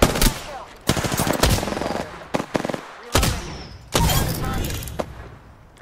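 Rapid bursts of automatic gunfire from the Apex Legends battle royale game crack in several loud volleys separated by short pauses, with a player talking over the shooting.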